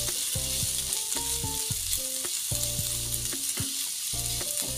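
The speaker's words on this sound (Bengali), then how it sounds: "টমেটো কুচি দিয়ে আমি সবজিটাকে রান্না করে নেব, একটু ভেজে রান্না করে নেব।" Vegetables with chopped tomato frying in a pan, a constant loud sizzle close by with clinks and scrapes of a spoon turning them at irregular intervals.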